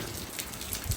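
Steady hiss of rain pouring down near Postojna Cave, Slovenia, a continuous wash of noise with a faint thump near the end.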